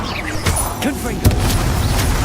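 A Confringo blasting curse goes off in Hogwarts Legacy, a loud booming burst with a sharp crack near the middle over a continuous rumbling game backdrop, with a voice calling out spells.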